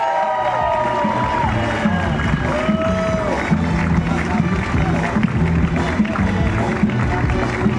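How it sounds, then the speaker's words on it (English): A conference crowd applauds and cheers as speakers come onto the stage, a sustained, loud roar of clapping with a few whoops rising above it. "Let's give them an applause."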